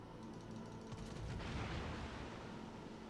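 Naval gunfire rumbles in the World of Warships video game, a muffled rolling boom of heavy shells that swells in the middle and fades, with no talk over it.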